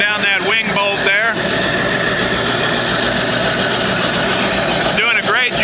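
A restored C.S. Bell B-50 grist mill, a burr mill, grinds steadily with a loud, continuous mechanical rumble and whir, while someone talks over it at the start and end.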